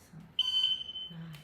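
A single high electronic beep from an electric bed signalling activation sounds clearly for about a second, steady and close, then fades out against a quiet background.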